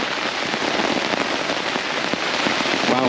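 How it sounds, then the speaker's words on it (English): Heavy rain drumming on a tent during a camping stop on a Scotland NC500 road trip, a loud, dense patter of drops close overhead, steady throughout with no voices. "You might not be able to hear me because it's raining."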